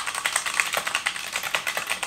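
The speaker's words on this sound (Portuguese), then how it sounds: "Gosto muito desse teclado por conta do tipo de tecla que ele tem." Fast, close typing on a computer keyboard without a numeric pad or arrow keys, with a dense run of crisp, overlapping key clicks and no talk, at a work desk setup.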